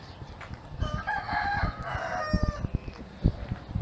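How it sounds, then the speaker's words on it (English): A rooster crows in the morning in Mexico, one drawn-out cock-a-doodle-doo fairly close by, with a few clucks and some faint background rustling around it. "good morning, Mr. Rooster."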